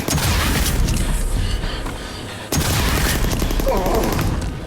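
Loud, continuous gunfire and booming blasts in a sci-fi space combat video game, a dense barrage with a brief break midway before it resumes.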